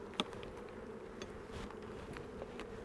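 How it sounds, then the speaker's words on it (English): Honey bees hum in a steady, dense buzz from an open beehive, close and continuous, with a few individual bees flying by and one sharp tap near the start. "There's a lot of bee population on this side"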